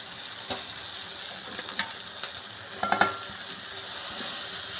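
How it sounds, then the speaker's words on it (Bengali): Chopped potatoes go into a pan of frying small shrimp for a spinach stir-fry. A quiet sizzle runs under a few sharp clinks and scraping stirs from the utensil. "তো এখন আমি দিয়ে দিব কেটে রাখা আলু।"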